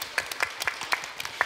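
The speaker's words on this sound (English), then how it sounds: "let's applaud, please" Applause from an audience at a startup ecosystems panel, a quiet scattering of claps with irregular sharp peaks over 1.5 seconds and no talk over it.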